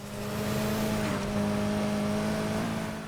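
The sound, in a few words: Mitsubishi Evo X racing in video game Need for Speed Heat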